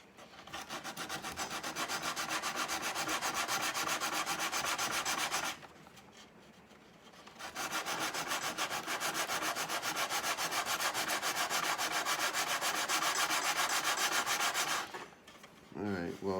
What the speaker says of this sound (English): I'm going to go around here and sand all this before I glue the top on